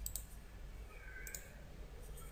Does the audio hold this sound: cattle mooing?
no